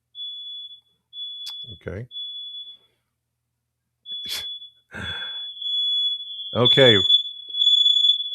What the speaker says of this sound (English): That's the smoke alarm going off in my house